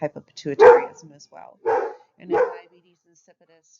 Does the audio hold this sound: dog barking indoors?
yes